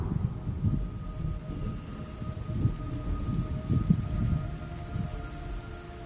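Steady rain in the video game Metal Gear Solid: Snake Eater, a constant wash of falling drops with low rumbling swells, heard alone at moderate level.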